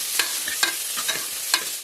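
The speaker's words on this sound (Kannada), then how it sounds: "ಬೆಳ್ಳುಳ್ಳಿ, ನಂತರ ಕಾಳು ಮೆಣಸು, ನಂತರ ಈರುಳ್ಳಿ, ಆಮೇಲೆ ಒಂದು ಟೊಮೆಟೊ, ಇಷ್ಟು ಹಾಕಿ ಚೆನ್ನಾಗಿ ಫ್ರೈ ಮಾಡ್ಕೊಳ್ಳೋಣ." Garlic, black pepper, onion and tomato frying in a pan, a steady close sizzle with a few spoon-stirring scrapes over about two seconds, no voices.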